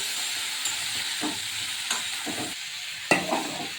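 Vegetables frying in oil with salt and turmeric sizzle steadily while a spoon stirs them, scraping and clinking against the pan in a few distinct strokes, one sharper knock near the end.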